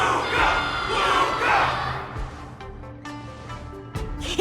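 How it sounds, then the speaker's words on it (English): A crowd roars and cheers in a wardance arena in Honkai: Star Rail, loud swelling shouts that fade into a scattered ongoing murmur with a few sharp bursts. "Everyone's cheering for you,"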